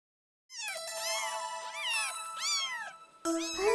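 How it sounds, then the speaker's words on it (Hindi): Several drawn-out, high meows from a cat, close and clear, repeated with short gaps and no talking. "टीटू, बिल्ली मिल गई क्या?"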